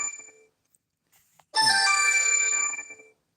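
A phone ringtone sounds loud and close for about a second and a half with a repeating tonal melody, after a near-silent start with a few faint ticks.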